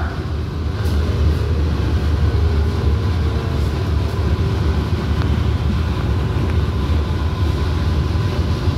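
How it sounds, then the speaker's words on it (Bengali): An AC EMU local train pulls into Kanchrapara station, a loud steady low rumble of wheels and motors with faint rhythmic track clatter throughout. "আমাদের ট্রেন এই মুহূর্তে কাঁচরাপাড়া রেলওয়ে স্টেশনে প্রবেশ করলো"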